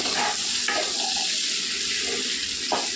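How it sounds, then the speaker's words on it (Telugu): Okra sizzles as it fries in oil and is stirred in the pan, a loud, continuous hiss broken by a few scraping stirs and clinks, with no talking. "నూనెలో కొద్దిగా మగ్గాలండి బెండకాయలు."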